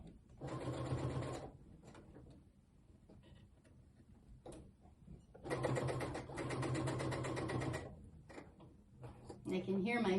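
A sewing machine stitches a poncho hood in two close, loud bursts of fast mechanical whirring, separated by quieter handling sounds.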